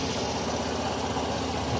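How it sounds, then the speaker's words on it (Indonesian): A Suzuki Burgman Street 125 EX scooter engine runs with a steady, even idle hum, close and constant throughout, with no talking. "Kemudian untuk mesin kita coba starter."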